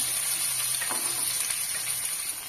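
Close, steady crackling sizzle of hot oil tempering poured into pepper rasam, continuous and bright throughout.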